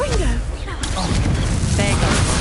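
Rapid magical blasts from the Confringo fire spell in the Hogwarts Legacy video game, a dense run of booming impacts and crackling hits layered over music, sweeping game effects and steady combat noise.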